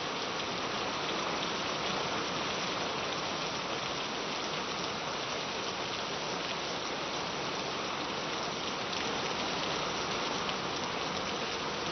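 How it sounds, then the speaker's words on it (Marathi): Heavy rain pours down continuously in Dombivli, with strong wind and thunder, a dense, loud, unbroken roar of water hitting surfaces with no voices. "डोंबिवलीमध्ये सुद्धा सध्या जोरदार पाऊस पडतो आहे। जोरदार वाऱ्यासह विजेच्या कडकडाटासह पाऊस कोसळतोय।"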